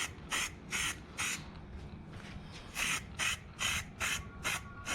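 Short hissing bursts from a Plasti Dip aerosol can laying light tack coats onto chrome trim on a Ram 1500, several quick puffs in a loose rhythm, close by, with no talking.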